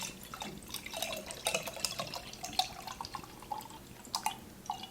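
Almond milk is poured into a glass at close range, a soft, irregular stream of trickling and splashing liquid lasting a few seconds, quiet and without speech.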